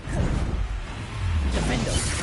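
A Bombarda blasting spell goes off in the video game Hogwarts Legacy, a short loud crashing, shattering burst with a whooshing tail, partly overlapping speech.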